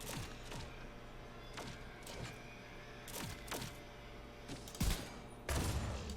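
Firefly explosives in The Division 2 pop in a quick cluster of sharp, close cracks and thumps over a low game ambience, followed by a couple of heavier bursts near the end.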